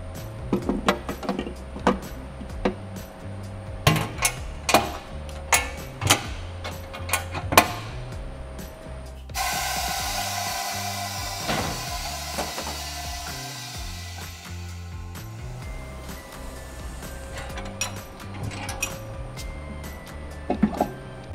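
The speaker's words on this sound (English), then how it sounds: "So the UAC20 aerosol crusher will crush paint cans up to 5 litres in size." A Unic UAC20 aerosol crusher compacting waste aerosol and paint cans: sharp mechanical clunks and metallic crunches in an irregular rhythm, a sustained hissing release of gas in the middle, then more thuds and crunches, close and loud without speech.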